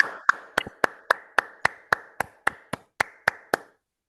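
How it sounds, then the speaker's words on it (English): One person claps alone over a video call for an open mic poetry night, about thirteen sharp, evenly spaced claps, close and distinct, then silence. "Please unmute and give a big round of applause for Naima Shumtu"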